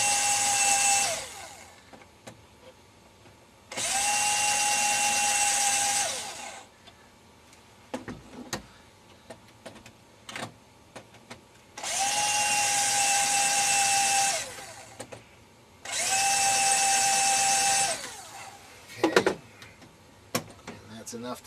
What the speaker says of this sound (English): it's just a little household type drill, and it's not going to take much to drill these rivets out